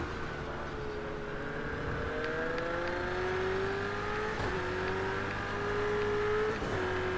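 An Aston Martin racing car engine in a video game holds a steady, sustained drone with smoothly rising and falling pitch across several gear changes, loud and continuous with no talk over it.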